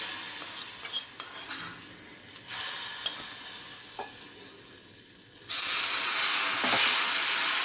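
Asafoetida spice tempering sizzles in a small pan, a soft steady hiss with faint crackles that suddenly bursts into a loud, bright, sustained sizzle in the last couple of seconds, close up, with no talking.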